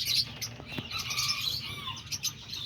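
Diamond doves and other cage birds in an outdoor aviary chirp and tweet, with light squawks, a scatter of high calls fairly close, and a soft flutter and low thump partway through.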